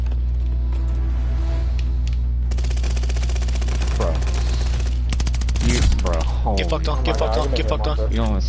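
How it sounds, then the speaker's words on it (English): Rapid automatic machine gun fire in Call of Duty crackles in dense bursts through the middle of the clip, mixed with other game effects while a player talks over it. "You almost snipe me, but you're pulling up a machine gun"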